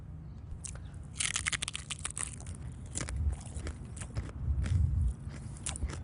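Someone bites into a crispy thin-crust pizza topped with hummus instead of sauce, giving a series of close, sharp crunches and chewing sounds with no voices.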